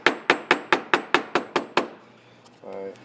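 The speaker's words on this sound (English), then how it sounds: "I'm keeping it nice and tight and hammering on it" Nine sharp hammer blows strike sheet metal in an even, quick rhythm while a carburetor mid plate is shaped, ringing close and loud before fading out, followed by a short voice.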